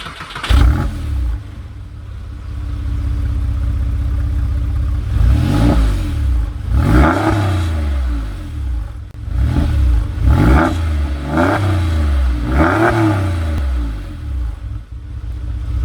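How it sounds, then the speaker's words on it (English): A Porsche 996 engine fitted with aftermarket Dansk silencers idles with a deep rumble, then revs repeatedly in short bursts, each rising and falling sharply, close by. "This has been fitted with Dansk silencers, so it's got more of a rumble."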